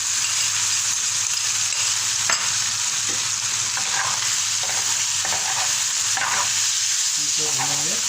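Ginger garlic paste for chicken coriander frying in a pan, with a steady close sizzle and scattered scraping knocks of a spoon stirring it, and brief talk near the end.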